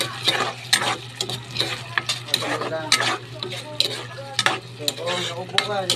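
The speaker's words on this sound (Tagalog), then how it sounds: "Sangkutsa lang muna natin yung ating sardinas bago natin ilagay yung ating patola." Sardines sautéing in a pan, a steady sizzle broken by repeated scraping stirs of a utensil against the pan, fairly close and moderately loud.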